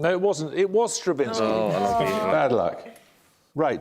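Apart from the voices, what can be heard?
No everyday noises stand out.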